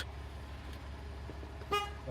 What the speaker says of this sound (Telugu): మెయిన్ హార్న్ కూడా అంత బాగానే పనిచేస్తుంది